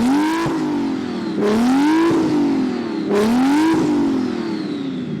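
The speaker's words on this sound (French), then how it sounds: "Alors, Ricky, peux-tu faire monter le régime de ta voiture?" A car engine revs loudly three times during a sound check before a drag race, each sharp climb in pitch followed by a falling note as it settles back toward idle, close and clear with no talking.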